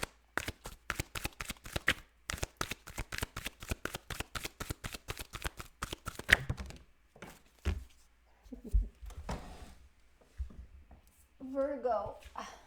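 Tarot cards are shuffled in a rapid, steady riffle of crisp snaps for about six seconds, followed by a few softer card slides and handling sounds while a person talks.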